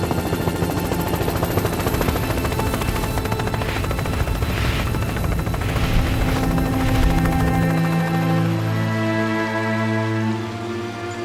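A loud, steady helicopter drone with rapid rotor chop, close and continuous throughout, easing slightly toward the end.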